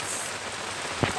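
Steady rain patters down around a bagan fishing platform at Tanjungkait, a close, constant hiss interrupted by one short, dull knock near the end.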